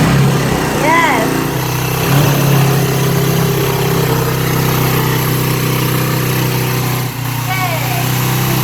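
Motorcycle engine idling steadily and loudly nearby after starting with the choke half out, a constant drone throughout while people talk over it.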